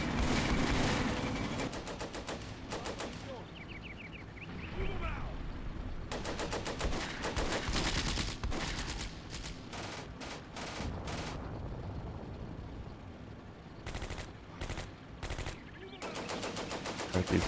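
Bursts of machine-gun and rifle fire crackle in the WWII tactics game Combat Mission: Beyond Overlord, coming in repeated rapid volleys with short lulls, loud and close, with a late flurry of separate shots.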